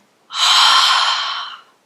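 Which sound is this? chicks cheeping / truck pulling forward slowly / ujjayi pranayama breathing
ujjayi pranayama breathing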